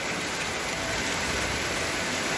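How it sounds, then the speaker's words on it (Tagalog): Heavy typhoon rain driven by strong wind in northern Palawan, a loud, dense, unbroken roar of downpour and gusts close by, with no voices. "Grabe na kalakas ang ulan at saka malakas ang hangin."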